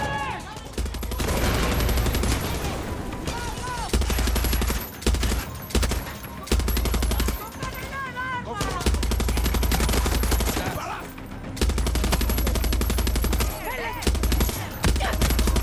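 Sustained machine gun fire in the video game Far Cry 6, loud dense bursts rattling nearly continuously with short gaps, over in-game sound and music.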